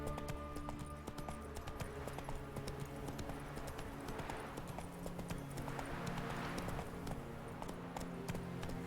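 Roach, the horse in The Witcher 3: Wild Hunt, gallops in a steady rapid clatter of hooves under dense game music and ambience, continuous and loud throughout.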